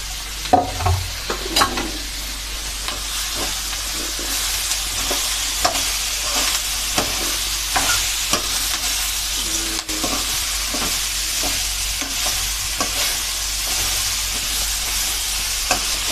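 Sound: stir-frying thinly sliced cabbage curry in pan

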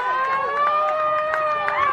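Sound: sideline siren hooter at rugby league match

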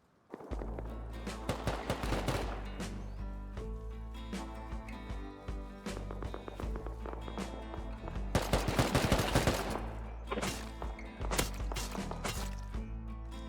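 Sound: AK rifle gunfire in the video game Rust

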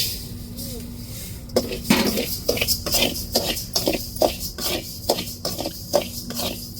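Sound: dry-roasting rice in a pan

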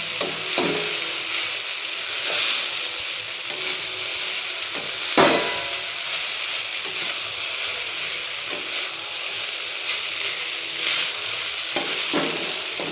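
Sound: stir-frying chowmein mixed with fried potatoes

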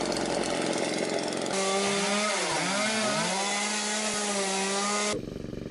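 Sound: Stihl combi multi-head attachment trimming trees

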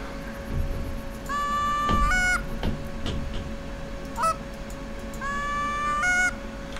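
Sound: geese honking in video game The Hunter: Call of the Wild

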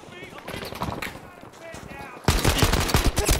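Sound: aircraft machine gun fire in Battlefield V video game

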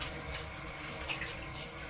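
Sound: rinsing hands under running water

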